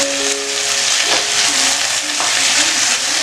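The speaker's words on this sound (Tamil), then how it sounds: "இப்போ வந்து நல்லா கிளறி விட்டுறலாம்." A pan of boiled tapioca and egg, Kerala style, is stirred so the egg scrambles into the tapioca. There is a steady, close frying sizzle with scraping stir strokes throughout, and no talking.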